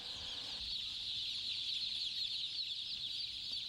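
A poultry house full of thousands of young chicks makes a dense, continuous chorus of high peeping that holds at an even level throughout, with no voices.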